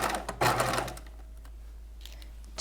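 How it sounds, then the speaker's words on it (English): A sewing machine sets a sleeve into a keyhole bodice at a 5/8-inch seam and 2.5 stitch length, whirring in one quick, loud burst of stitching before it stops, leaving a quiet low hum. "now we're going to set this sleeve in by stitching around this shape here"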